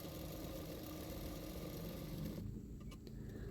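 A sewing machine stitches a seam on a folded blouse fabric, a steady, loud mechanical whir with a fine rapid pulse that cuts off near the end, leaving faint ticks.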